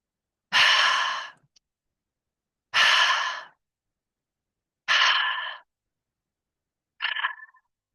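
Four slow, deep breaths during a breathing exercise, each a loud, airy rush of about a second separated by silence, the last one shorter and softer.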